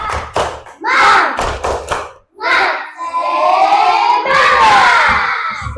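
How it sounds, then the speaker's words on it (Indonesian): A class of children performs a rhythmic spirit clap (tepuk semangat) in a classroom, with bursts of clapping and shouted chanting voices, several short rhythmic claps followed by sustained loud group shouting. "kita tepuk semangat dulu"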